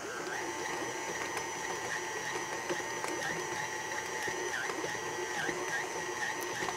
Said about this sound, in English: I'm going to let it go for about 6 minutes on my mixer